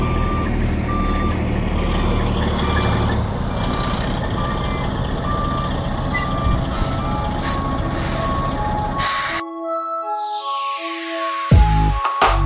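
A dump truck backs up at a home foundation site during limestone backfill, its loud backup alarm beeping in a steady repeating rhythm over a rumbling diesel engine before the sound cuts off abruptly near the end.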